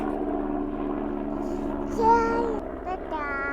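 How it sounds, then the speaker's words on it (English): Helicopter flying overhead above a summer container garden, a steady low droning rotor rumble carrying from a distance, with a voice and an adult voice sounding over it. "It's a helicopter, baby."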